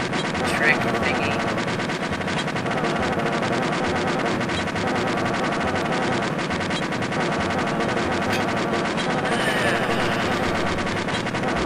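Sustained machine gun fire in the Western video game Tin Star, loud and continuous throughout with dense overlapping shots and no pauses.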